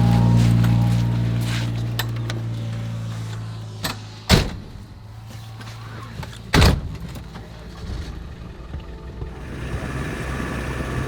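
A car door thuds shut twice, a few seconds apart, at a private mountain airstrip, over a steady engine hum that fades midway.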